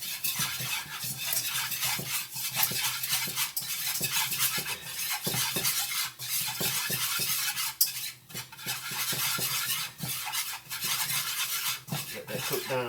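Flour and milk slurry stirred in a pot, a continuous scraping, swishing rhythm of a utensil working around the pan with frequent light metallic clinks, steady and close for the whole stretch, no talking.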